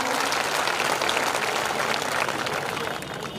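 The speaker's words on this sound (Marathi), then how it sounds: "टाळ्या वाजवून एकदा जोरदार आपण स्वागत करूया" Sustained crowd applause welcoming a speaker at a public political rally in Hingoli, thick and continuous, easing slightly toward the end.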